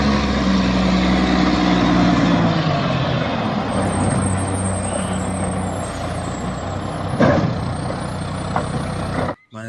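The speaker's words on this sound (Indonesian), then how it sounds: "Wow, ini mobil truk sampah" Toy garbage truck rumbles steadily with a low engine-like drone, a brief hissing burst near the end like an air brake, then cuts off abruptly.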